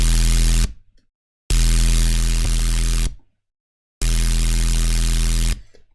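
A heavily distorted synthesizer noise bass for deep drum and bass plays in three long, loud, buzzing bursts separated by abrupt silences.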